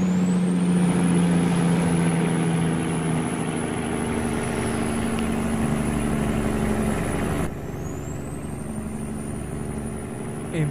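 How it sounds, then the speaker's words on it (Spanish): A Kenworth W900 engine in American Truck Simulator revs loud and steady as the rig hauls a heavy load, its drone continuous with a high whine above, dipping briefly before climbing again, with no talk. "Empiezan a subir las revoluciones nuevamente"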